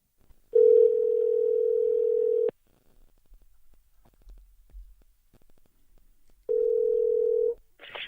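A steady telephone dial tone sounds twice, a two-second stretch then a shorter one after a quiet gap with faint low rumble.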